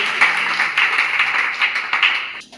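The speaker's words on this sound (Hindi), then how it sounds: "आइए हम उनका जोरदार ताली बजाकर स्वागत करें।" A congregation claps to welcome a pastor at a Hindi-language church service, a steady wash of applause throughout that fades out near the end.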